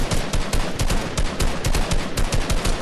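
Rapid gunfire from a Fortnite match, a dense run of loud repeated shots with no pauses, more like sustained automatic fire than single shotgun blasts.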